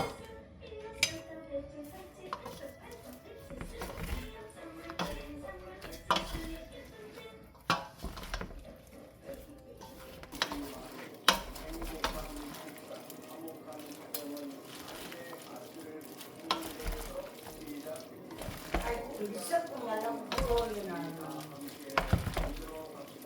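Chive pancake batter of egg and water being stirred in a bowl, giving a steady run of scraping, tapping clatter throughout with sharper clicks scattered across the mix.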